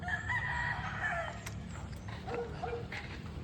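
Roosters at a gamefarm crowing amid a busy yard of fowl, a drawn-out crow near the start over constant low background clamor, with a dog-like bark mixed in.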